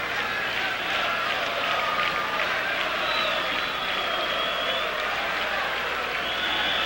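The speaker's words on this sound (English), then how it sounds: "the crowd still buzzing with that non-penalty call" Crowd noise fills a football stadium during a Croatia versus Bosnia and Herzegovina match, a steady distant roar with a faint patter like scattered clapping and a commentator's voice barely present underneath.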